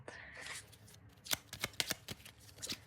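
Fortune-telling cards are shuffled up close, a soft riffle followed by a quick series of crisp snapping card taps, quiet and alone.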